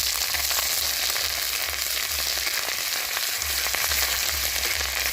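Grated ginger frying in a pan after five-spice tempering, a soft steady sizzle with occasional crackles and a low intermittent hum underneath, close and fairly quiet, no voices.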